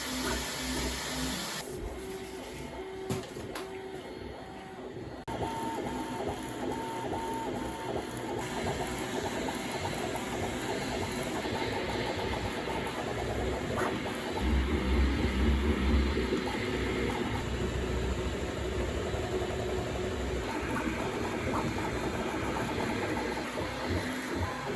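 A 3D printer prints a soldering flux workstation, its stepper motors whirring and buzzing steadily with shifting tones and rhythmic movement patterns, running alone at a moderate, close level throughout.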